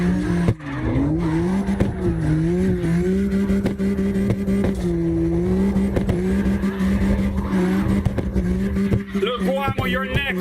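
Car drifting in CarX Drift Racing Online, a steady engine drone with long tire squeal held throughout, revs rising near the end, with voices talking over it.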